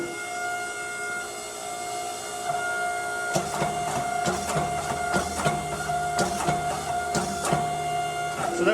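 Forge welding a ladder pattern Damascus steel billet for an Irish ring hilt sword: a steady droning forge hum with a series of sharp, ringing hammer blows about a second apart, loud and close.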